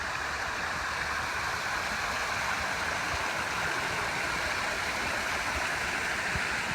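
A waterfall on a riverbank in Natchitoches, Louisiana, giving off a continuous, even rush of falling water that is moderately loud and steady throughout, with no voices over it.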